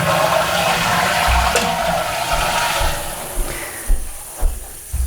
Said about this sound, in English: Now if I pull this up, it should flush